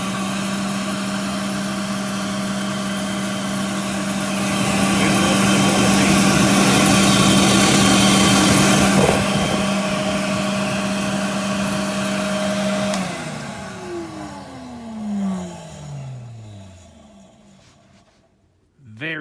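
An early-model Rainbow D3a canister vacuum cleaner runs with a loud, steady motor whine and a strong airflow roar, then switches off and winds down in a falling pitch to silence.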